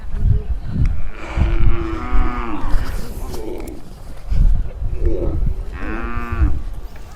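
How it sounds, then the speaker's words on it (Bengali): Several loud, drawn-out moos from a herd of cattle and buffalo close by on a dry Padma river sandbank, with a couple of separate calls over a noisy outdoor background and low voices. "এর মধ্যে কিন্তু মহিষ আছে, গরু আছে"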